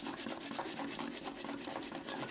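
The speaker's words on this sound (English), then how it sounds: "we're going to do that again using the push whisk, and we'll see if we can get the milk to add more volume" Milk frothed with a push-action rotating stainless steel whisk, a rapid, rhythmic rasping whirr pulsing several times a second, steady and close with no voices.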